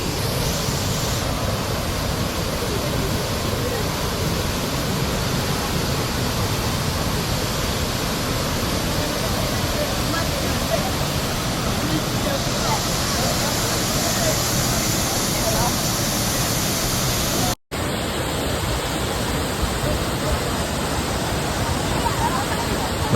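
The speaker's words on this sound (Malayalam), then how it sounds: "ആ വാട്ടർഫോൾ വന്ന് വീണിട്ട് വെള്ളം വന്ന് വീണിട്ട് ആ വെള്ളം ഇങ്ങനെ തെറിച്ച് നമ്മുടെ മുഖത്തേക്ക് വന്ന് അടിക്കും" Abbey Falls in Madikeri, Coorg, a waterfall roaring as a constant broadband rush heard up close, unbroken for over twenty seconds apart from one brief cut.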